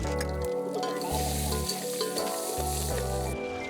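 Mustard seeds and spices sizzle in hot oil for a village-style tadka, a steady close frying hiss running continuously under a pulsing, tonal background.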